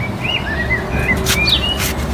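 Young birds from a recently hatched brood give thin, high chirps, several short tweets scattered over about two seconds against a steady low background hum.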